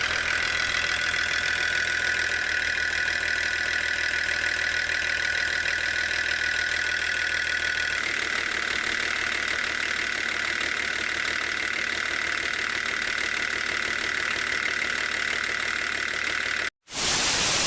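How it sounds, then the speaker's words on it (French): A BMW 525 TDS diesel engine idles steadily and loudly with a rough, slightly uneven, shaking mechanical hum, ending in a brief cutout and a burst of noise. "Je sais pas si on va le voir, le moteur qui tremble là."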